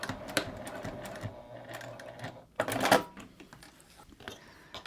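A sewing machine back stitching a hip bag near a key fob with metal hardware, a brief burst of motor whir and needle clatter among handling clicks and fabric shuffles, close by.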